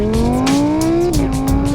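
An Audi R8 V10 Plus sports car on a racetrack gives a loud, close engine roar, its pitch climbing steadily through a gear before dropping at a shift.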